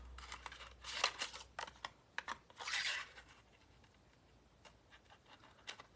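Scissors trimming card paper at a card-making class: quiet, scattered crisp snips in short clusters, close up and fairly faint, with long gaps of near silence between them.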